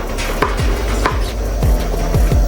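A knife chops food on a cutting board at a cast-iron cooking setup, giving about eight sharp, close, evenly spaced thuds over a steady background hiss.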